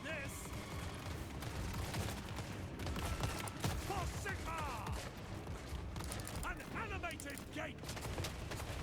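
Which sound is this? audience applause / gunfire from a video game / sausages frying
gunfire from a video game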